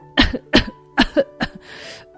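A run of coughs from a woman with a chicken bone stuck in her throat, about five sharp bursts in quick succession, close and fairly loud, followed by a brief rough breathy exhale.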